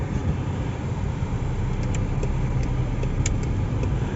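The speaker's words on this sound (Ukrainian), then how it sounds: "Іде м'ягенько, щеплення працює добре, передача включається м'яко, рулиться легко." Inside a 2010 Skoda Fabia with a 1.4 MPI petrol engine and manual gearbox while it drives, a steady low engine and road rumble holds throughout, with a few faint ticks above it.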